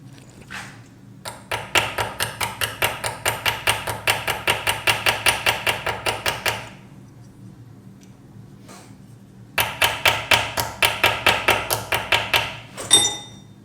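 Rapid, steady strikes of a small blacksmith's hammer on metal while forging a Viking pendant, ringing brightly, in two long runs separated by a brief pause.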